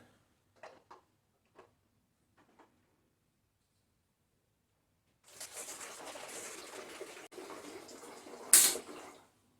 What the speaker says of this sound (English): Hang the Coke bottle on the trigger and we'll start filling.